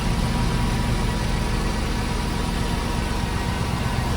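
A 2005 Cadillac Escalade EXT with an LS V8 idles steadily after a cold start at an auto wrecking yard, an even, smooth, continuous engine drone heard up close with no talking.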